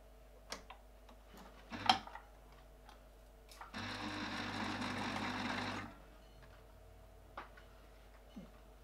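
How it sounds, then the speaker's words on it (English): A sewing machine stitches a fabric seam for a hair accessory, a steady whirring run of about two seconds between quiet ticks and handling clicks in a quiet room. "You're going to sew a 1 centimeter seam allowance."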